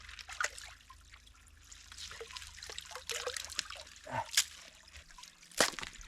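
A small mountain spring at a winter bushcraft campsite, its water trickling and dribbling over rock into a reservoir, close and uneven with gurgling bursts and a few sharper splashes.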